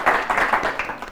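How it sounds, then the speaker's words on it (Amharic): Audience applause for schoolchildren at a televised quiz competition, a short burst of many hands clapping together at steady loudness. "እስቲ አጨብጭቡላቸው።"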